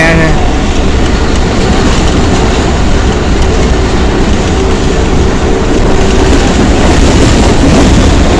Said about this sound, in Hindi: के साथ साथ ट्रेन जा रही है।